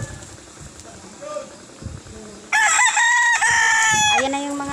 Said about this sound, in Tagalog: ayan na yung mga alaga naming manok